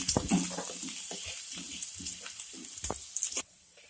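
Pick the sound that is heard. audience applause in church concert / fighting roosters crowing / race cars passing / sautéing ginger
sautéing ginger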